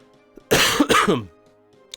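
One close, loud cough bursts out in two quick harsh pushes, then quiet returns.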